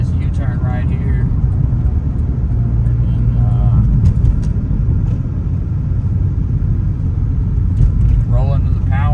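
A Cadillac CTS-V's engine rumbles steadily through a U-turn, a loud continuous low drone heard from inside the car, with people talking over it.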